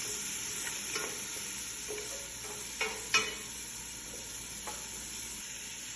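Black powder spice mix being stirred in a hot pan for kabsa rice, giving a steady quiet sizzle with a few soft scrapes of the spoon.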